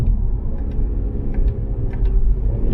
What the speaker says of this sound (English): if I go ahead and pop it into sport mode now, drop a couple gears